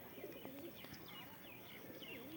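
Pigeons coo and chirp softly in a faint, distant outdoor scene, with a few brief calls over steady background noise.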